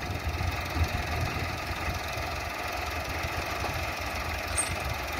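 A Massey 385 tractor engine pulling a field leveller across a field, a steady, fairly faint mid-low rumble with a continuous knocking chug and no voices.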